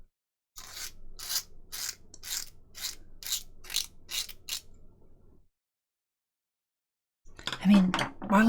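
Plastic model part of a Lancaster bomber kit being filed at a small nub, heard as about nine evenly spaced, close rasping strokes, then a pause and a short burst of talk.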